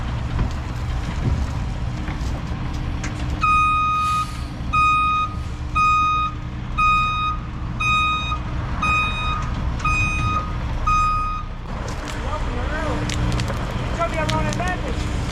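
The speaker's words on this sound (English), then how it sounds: "That's a nice truck." A truck backing up at an excavation site sounds a steady series of loud, evenly spaced reversing beeps over a heavy diesel engine rumble, with a burst of other machinery noise afterward.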